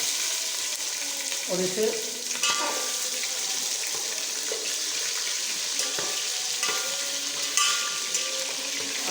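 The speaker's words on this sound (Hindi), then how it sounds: "आप इसको अच्छी तरह फ्राई कर लेंगे" About half a kilo of large chicken pieces fry with boiled chickpeas in a pot for Lahori kali mirch murgh chana, a steady wet sizzle broken by scraping stirs, with a few quiet spoken words.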